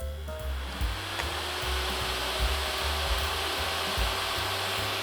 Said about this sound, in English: Hopefully the noise is not going to be too loud from the fan